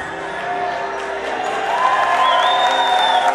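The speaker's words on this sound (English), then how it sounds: "Give a round of applause for all that group sitting down and answering to every question I asked." A crowd gives a group a round of applause, continuous clapping with scattered cheers and a whoop, steady and fairly loud.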